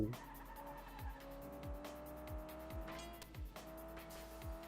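A racing car engine drones in the video game FlatOut 2, its pitch climbing through repeated gear shifts, with tire skids and squeals layered over the steady roar.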